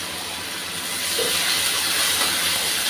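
Ginger garlic paste drops into onions already fried reddish for vegetable dum biryani, and a broad, steady sizzling hiss rises after about a second and holds, close and fairly loud.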